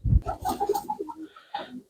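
Domestic pigeons kept in a village loft coo softly up close, a short run of low, rolling calls with brief pauses between them.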